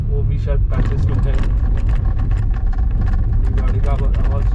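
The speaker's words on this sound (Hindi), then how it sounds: "गाड़ी का आवाज़ सुन सकते हैं।" A car drives along the Mumbai–Goa highway near Sangameshwar and Chiplun in Maharashtra, India, on patchy cement road. A steady low engine and road rumble continues throughout under nearly constant close talking.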